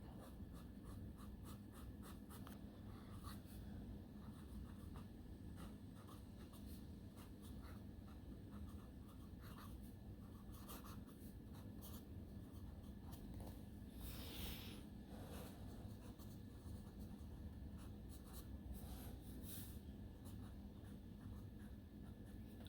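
Sailor King of Pens fountain pen nib scratching across paper in a long run of faint, close, irregular strokes, steady throughout with no talking.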